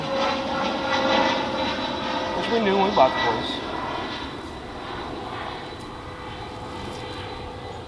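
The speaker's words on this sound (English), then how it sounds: "planes taking off and landing make a lot of noise around here" Fixed-wing airplanes taking off and landing near an airport, heard as a broad, loud engine roar that swells and then eases away, while someone speaks over it outdoors.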